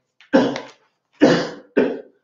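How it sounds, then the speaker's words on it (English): Three separate coughs, close and loud, each a short rough burst with brief silences between them. "my cough this evening"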